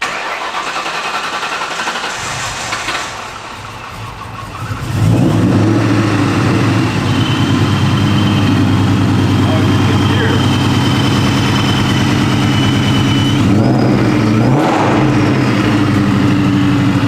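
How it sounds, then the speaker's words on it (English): An SUV's Vortec-supercharged engine with a new MagnaFlow exhaust cranks and fires about five seconds in, then settles into a loud, steady idle with a whine from the blower, with people talking nearby. "we're gonna fire it up, get it running under its own power. First time since the Vortec install, and we got a new MagnaFlow exhaust on it"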